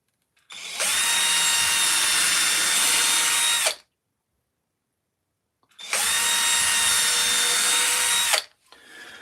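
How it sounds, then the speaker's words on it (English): A 2mm drill bores into wood for a carving, with two sustained, high-pitched whining bursts of about three seconds each separated by silence, close and loud, and a third burst starting at the very end. "And that's all I need to be doing with the 2mm drill."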